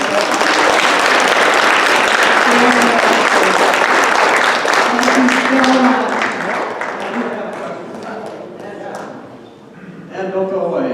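An audience at a library club meeting with the Clark County Election Department applauds in a room, dense clapping for about six seconds that thins out as people begin talking over it.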